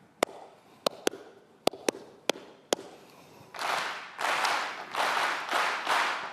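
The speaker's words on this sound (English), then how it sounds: "I'm going to clap a pattern." A speaker at a TED Sydney talk on music education claps a sharp rhythmic pattern of single claps, then a large audience answers with several bursts of loud group clapping echoing the rhythm.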